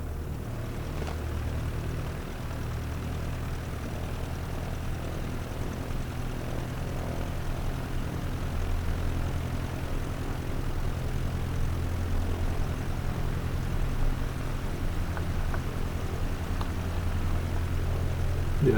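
A propeller airplane's engine drones steadily while taxiing onto a runway in a flight simulator game, a low continuous hum that swells slightly louder toward the end, with no talking.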